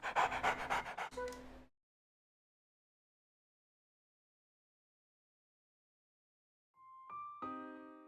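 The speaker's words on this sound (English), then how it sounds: "This dog was shot by like 20 pellets." A wounded dog, hit by shotgun pellets in the Wii game Trauma Center: New Blood, gives a quick burst of loud panting, falls silent for several seconds, then lets out a brief high whimper at the end.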